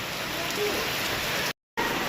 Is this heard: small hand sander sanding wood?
no